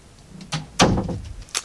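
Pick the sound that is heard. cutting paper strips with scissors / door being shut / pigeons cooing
door being shut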